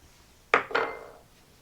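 Kosher salt being dumped from a container into a pot of canned tomatoes for salsa, heard as two quick close clinks followed by a short rattling pour that fades within half a second, no talking.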